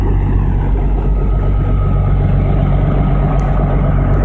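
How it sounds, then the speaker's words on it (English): A tuned-up truck engine idles steadily at close range, a dense continuous low rumble with no pauses and no talking over it. "And I love this truck, man. It sounds good too."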